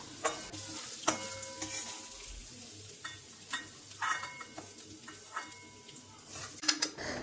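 Raw rice being stirred and lightly fried in oil in a pan for a vegetarian green papaya dish, a soft sizzle broken by repeated scraping and clinking strokes of a spatula against the pan, close and fairly quiet.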